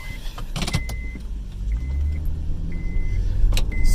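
A 2009 Honda Accord V6 cranks and starts up after an alternator replacement: a few clicks, then a building engine rumble that settles into a steady close idle, with no talking.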